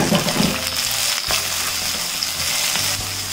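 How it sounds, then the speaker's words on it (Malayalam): Chopped tomato and curry leaves sizzle steadily in a hot pan, a loud close crackle with occasional stirring scrapes and a low hum underneath, and no talking. "ഇതിലേക്ക് നമുക്ക് ഈ കട്ട് ചെയ്ത് വെച്ചിരിക്കുന്ന ടൊമാറ്റോ ഇട്ട് കൊടുക്കാം."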